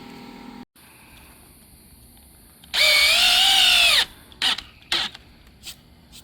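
A power drill drives screws into new Hardie siding on a shack, one loud sustained burst of whirring and then a couple of short bursts, close by and with no talk.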